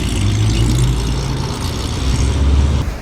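A very loud Chevrolet Corvette engine booms past on a London street, a heavy low-pitched roar that swells and fades over a few seconds.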